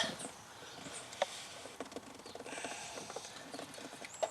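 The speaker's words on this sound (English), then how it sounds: "I am going to try to remove the sensor." Quiet, close ratcheting clicks and small metallic knocks as a socket wrench works loose the downstream O2 sensor on a Chevy Cruze, irregular and faint with no talk.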